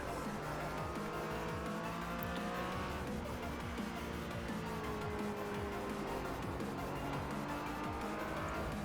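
A Porsche GT4 race car in the iRacing simulator drives steadily with its engine droning, along with tire squeal and skidding. The sound is continuous and fairly quiet, with no voices.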